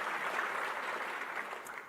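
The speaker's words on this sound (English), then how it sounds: "That's a good thing to clap for." A live audience applauds during a political speech, a soft, steady wash of clapping heard from a distance that fades slightly toward the end, with no voices over it.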